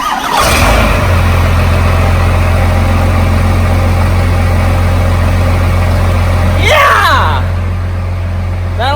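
A Ford F350 with a Cummins diesel engine cranks and fires at the start, then settles into a loud, steady low idle close by, with people talking over it near the end.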